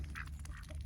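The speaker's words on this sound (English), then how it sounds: "He's the only one that quacks." An elderly pet duck more than eleven years old quacks a few times in quick succession, close and clear, over a low steady background hum.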